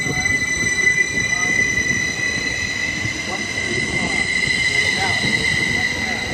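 A train at Bayshore station, loud and close, with a continuous high metallic wheel squeal ringing over the rumble of rolling cars and light rail clatter.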